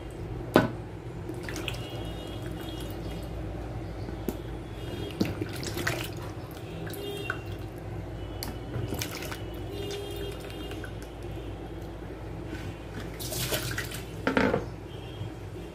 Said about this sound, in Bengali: এগুলোকে ভালো করে ধুয়ে আমি ভালো করে চিপে চিপে পানি ঝরিয়ে তারপরে নিয়ে নিচ্ছি